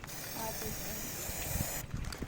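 A can of spray paint, used to customise a game controller, gives a steady close hiss for nearly two seconds, then stops abruptly, leaving faint low rustling.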